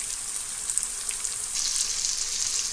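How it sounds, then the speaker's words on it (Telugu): Salted bitter gourd pieces frying in a pan, a soft, continuous sizzle close by with faint crackles, growing slightly louder toward the end. "చూడండి, ఫ్రై అవుతున్నాయి."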